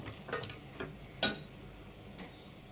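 Quiet scraping and clinking of a utensil against a pan as spices are stirred into baby corn gravy, irregular strokes with one sharper metallic knock, over a soft background sizzle.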